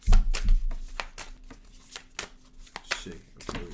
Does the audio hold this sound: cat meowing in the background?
no